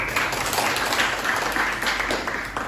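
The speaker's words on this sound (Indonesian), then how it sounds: "Boleh tepuk tangan untuk Mbak Anita." Students in an economics class clap together for a classmate, a loud, close, continuous patter of hands with brief dips.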